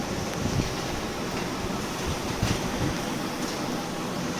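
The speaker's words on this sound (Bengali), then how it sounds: "এত বাতাস, দাঁড়া দাঁড়া দাঁড়া, এরকম বুম" Strong outdoor wind buffeting the microphone, a loud continuous rushing roar with irregular low thumps and gusts throughout.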